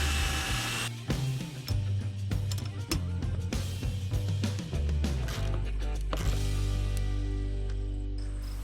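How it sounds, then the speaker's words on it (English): A power drill whirs in repeated bursts of varying pitch, driving screws and boring a 1/4 inch hole in wood, with clunks and clicks between runs. "I'm driving a couple of screws and drilling a 1/4 inch hole for a"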